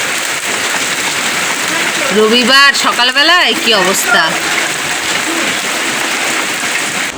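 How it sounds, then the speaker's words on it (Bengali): Heavy rain with big drops pours steadily, a dense wash of falling drops, while a person speaks briefly over it partway through. "কি বড় বড় ফোটা পড়ছে"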